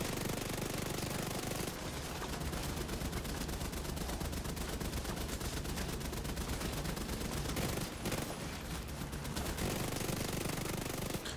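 Sustained loud rattling bursts of gunfire in the video game The Division 2, dense rapid shots layered over a noisy combat backdrop for several seconds.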